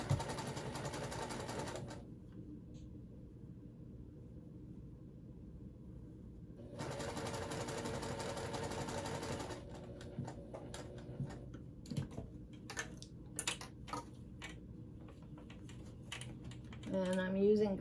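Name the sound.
sewing machine stitching bag lining with gray thread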